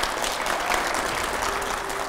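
Studio audience applause during a televised Hindi-language interview, a steady close burst of clapping that fills the whole moment without pause.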